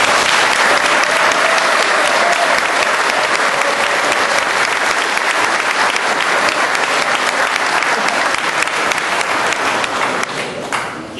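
Loud, sustained applause for a singer at a 60th birthday celebration, a dense crowd clapping continuously and evenly before thinning slightly at the very end.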